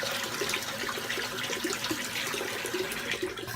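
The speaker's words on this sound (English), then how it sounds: "Let me fill up the sink here with just a little bit of water so I can rinse out the razor blade." Water runs steadily from a tap into a bathroom sink, making a continuous close splashing hiss with faint trickling detail on top, and nobody speaks.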